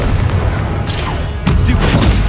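Fiery blasting spell explosions from a wizarding video game, Hogwarts Legacy on PS5: a loud, dense rumble with two sharp bursts roughly half a second apart, the second booming on heavily.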